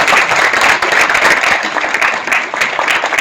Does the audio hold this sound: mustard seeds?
no